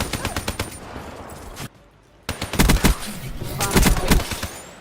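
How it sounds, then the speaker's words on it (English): The Man o' War assault rifle in Call of Duty fires in rapid bursts of sharp cracking shots, a short silent gap between bursts, then heavier, denser volleys. "Slow firing assault rifle."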